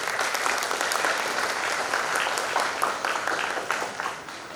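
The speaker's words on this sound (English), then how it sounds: "Please give him a huge round of applause." An audience at a Model United Nations event applauds steadily, a dense, even wash of clapping that holds at full strength for several seconds, fading only slightly at the end.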